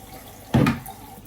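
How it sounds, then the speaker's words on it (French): Vacuum cleaner parts are rinsed under a running tap in one brief splashing burst of water, heard close and alone over a quiet background. "On passe tout ça comme ça sous l'eau."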